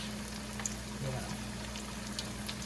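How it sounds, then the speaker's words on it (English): Plantain slices for Panamanian patacones frying in hot oil, giving a low, steady sizzle with faint crackles and a constant hum beneath, with no voices. "Now, you want to fry this, okay, until it's brown"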